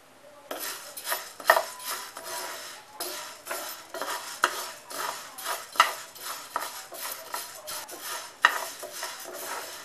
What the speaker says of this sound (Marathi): त्याच्यानंतर आपण त्याच्यामध्ये गहू भाजणार आहोत